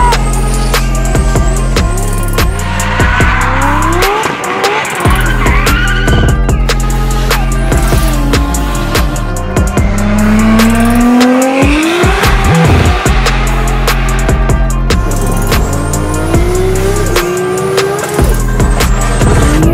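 A Toyota Supra MK4 with a single-turbo 2JZ engine and exhaust revs hard and loud, repeated rising and falling pulls with sharp crackles and chirps, no talking over it.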